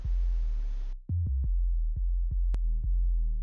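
A deep jungle synth bass patch, first a sustained buzzy note, then a series of short punchy bass hits in a loose rhythm, with no other sounds.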